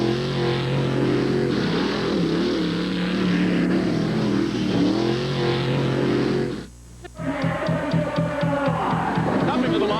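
Off-road truck engines rev over the dual mud pits at a 1989 mud bog racing jamboree in Rockford, Illinois, a loud steady drone under an announcer's talk, then a brief lull and a rhythmic pulsing rev near the line.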